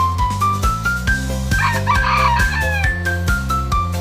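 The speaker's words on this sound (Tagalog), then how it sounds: "Manok panabong po." A fighting rooster crows repeatedly, loud and close, with its calls rising and falling over a steady rhythmic background of music or mechanical pulses.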